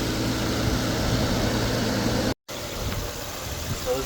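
A car engine idles steadily and closely with a low hum and broadband wash, then a brief total dropout partway through before the idle resumes; the engine is an Infiniti G37 at 800 RPM once the oil has warmed to temperature.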